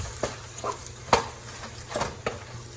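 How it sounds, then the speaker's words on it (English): A spoon mixing mac and cheese lasagna filling in a bowl, giving a few soft, irregular wet scrapes and clinks at close range. "Now, mix that up."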